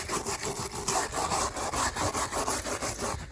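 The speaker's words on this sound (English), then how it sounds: "I'm just taking this wire brush," A wire brush scraped back and forth over a roof to clear off accumulated dirt and moss, producing a close, steady rhythmic rasping with regular strokes and no talk.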